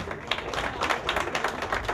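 Audience applause at a French-language award ceremony, the Prix Diaspocam 2015, a steady dense patter of many hands clapping close by with no talk over it.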